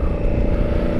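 An enduro motorcycle rides along a trail with its engine held at a steady, loud drone and a low rumble throughout, with no clear rise in revs and no voices.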